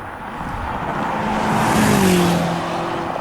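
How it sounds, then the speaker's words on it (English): A BMW M5 sweeps past on Lake Hughes Road, its engine note rising to a loud peak around the midpoint with a faint tire hiss, then easing off as it moves away. "Let's hear what the M5 sounds like on Lake Hughes Road."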